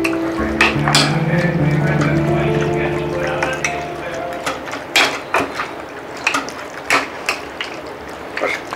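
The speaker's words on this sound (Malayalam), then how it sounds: "മിക്സ് ചെയ്യാൻ വേണ്ടി നമ്മൾ സ്പൂൺ എടുക്കുക, ഈ മാരിനേറ്റ് ചെയ്ത സാധനങ്ങൾ മിക്സ് ചെയ്യുക" A spoon mixes marinated mutton for biryani, producing scattered close clinks and scrapes that grow sharper and more frequent over several seconds, over a soft steady tonal background.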